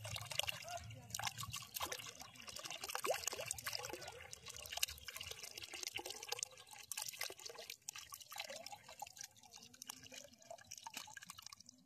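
Water trickling and splashing as bought fish are released into open water, a faint, close, irregular dripping and sloshing that runs steadily throughout with low background noise.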